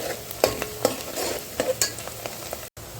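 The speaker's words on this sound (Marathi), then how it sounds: "कांदा गुलाबी रंग येईपर्यंत चांगला परतून घ्यायचा आपण" Chopped onion sizzles steadily in a hot pan for a Kolhapur-style bhogi vegetable dish, with a spoon stirring and scraping against the metal in several close, sharp strokes.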